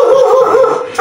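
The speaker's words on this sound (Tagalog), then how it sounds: "Napakakulit nitong asong reo" A pet dog named Reo yips and howls in a steady, close, whining cry that runs the whole moment, loud and alone with no talk.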